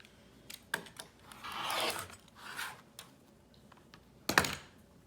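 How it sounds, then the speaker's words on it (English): A rotary slicer cuts through pillowcase fabric for a mask kit, heard as soft, close scraping rolls alongside scattered light clicks and taps of handling in a quiet room. "And I am gonna use my slicer."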